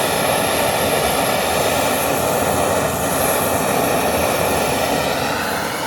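A small camp stove burner from Wal-Mart runs at full flame with a pot at a rolling boil outdoors: a loud, steady, close roaring hiss that does not change, with no talking.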